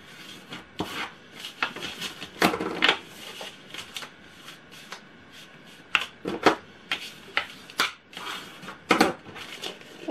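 Paper for a square mini album is folded and creased by hand, giving irregular crisp rustles, rubs and sharp crinkles at close range with pauses between them.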